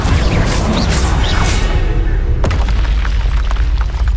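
Magic spell blasts from the Hogwarts Legacy video game, Bombarda and Confringo, bursting in loud booming explosions with whooshing swells. A sharp crack lands midway, then a rumbling, crackling tail continues to the end.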